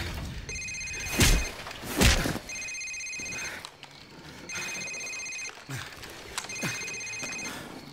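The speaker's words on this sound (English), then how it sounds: "Sir, it's his cell phone." Repeated electronic phone ringing in Call of Duty 4: Modern Warfare, a cell phone trilling in several bursts with short gaps, loud and close, with a couple of heavy thuds and a faint voice in between.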